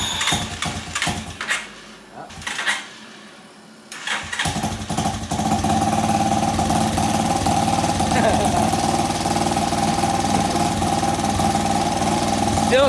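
A Power Wheels Ford F200 fitted with a small gas engine on a 135 jet sputters and cranks, pauses, then catches and settles into a steady, loud, buzzing idle that runs unbroken to the end.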